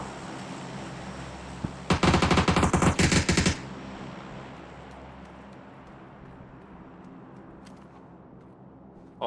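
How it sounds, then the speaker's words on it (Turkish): A rapid automatic burst of gunfire in the shooter game PUBG Battlegrounds rattles loudly for about a second and a half, then fades into a low steady background hum. "Buraya sıkıyor biri."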